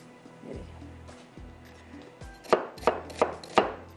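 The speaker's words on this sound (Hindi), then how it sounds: "बस इसको मैं अभी यहाँ पर थोड़ा सा चॉप कर लेती हूँ" A knife chopping on a board, a few quiet cuts followed by four sharp, evenly spaced chops near the end, close by.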